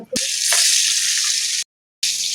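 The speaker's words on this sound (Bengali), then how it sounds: "মাছটাকে এখন লাল লাল করে ভাজবো" Loud, steady sizzling of a whole fish frying in hot oil in a pan, close by, briefly cut off then resuming.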